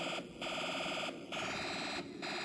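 An electronic alarm built from a Snap Circuits kit blares a harsh, buzzing rattle in three repeating bursts with short gaps, a crude synthetic imitation of rapid machine-gun fire.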